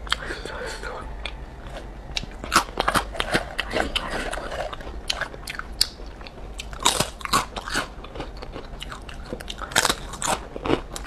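Someone bites and chews a crunchy seaweed-and-sesame snack close to the microphone, with a rapid series of crisp crunches and crackles over a quiet background.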